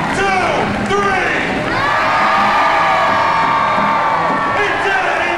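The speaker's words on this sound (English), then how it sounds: "This time, on the count of three, everybody scream." An audience at a theme park animal show in MGM Studios/Universal Studios in 2003 screams on cue. A loud crowd of adults and children yells and whoops in a sustained burst that fills the whole stretch.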